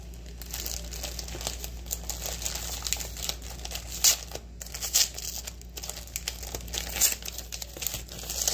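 Crinkling packaging of a Quick Check ultimate chorizo breakfast burrito being opened, with several close, crisp rustles and small tearing crackles coming in uneven bursts.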